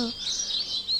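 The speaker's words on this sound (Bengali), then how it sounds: "শুধু পাখির ডাকগুলো শোনা যাচ্ছে যে সকাল হয়ে গেছে।" Small birds chirp at dawn in quick, bright repeated calls, moderately close and clear against a quiet background.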